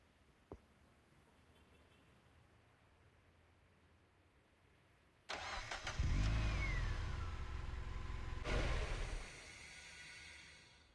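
A freshly spawned car in a video game starts up and its engine revs hard for a few seconds, loud and close, then settles back to a lower hum, with no talk.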